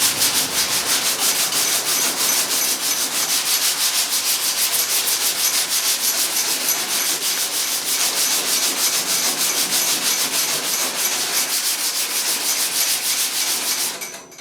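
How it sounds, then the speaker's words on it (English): Sandpaper of 220 grit scrubs primer on the bed of a 1985 Chevy K10 pickup in a loud, continuous, close rhythmic rasp that runs for about fourteen seconds and then stops abruptly, with no voices. "here again we're going to use 220 grit"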